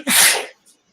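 A single loud, sharp sneeze close by, then a faint breath afterward.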